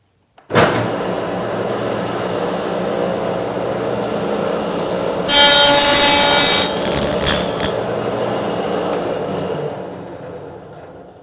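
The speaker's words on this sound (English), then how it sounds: "I'm going to go ahead and run a dado through this board" A dado blade cuts a groove across a wooden board for a box joint jig, a steady loud whirring drone that jumps to a harsher, brighter roar midway through the cut before easing off; no talking.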